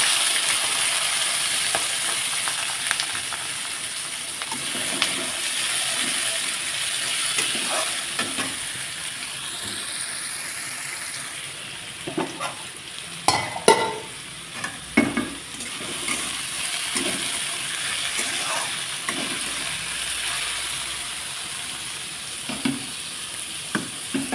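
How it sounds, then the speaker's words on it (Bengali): Food frying in hot oil in a home kitchen, with a steady loud sizzle throughout and intermittent scraping and stirring clatter of a utensil against the pan, no voices. "তেলটা কিন্তু আমার গরম হয়ে গেছে, আর এদিকে ভাজাটা বসিয়ে দিই"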